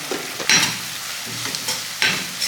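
Chicken corn manchurian with soy sauce and chilli sauce is stirred in a hot pan, with a soft continuous sizzle broken by several sharp scraping clinks of the spatula at irregular intervals.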